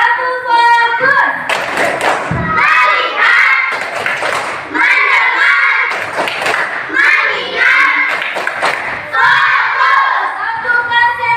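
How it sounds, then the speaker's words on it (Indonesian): A class of schoolchildren performs a rhythmic focus clap, hands striking in patterned bursts mixed with loud chanting voices throughout, close and energetic in a classroom. "Tepuk fokus."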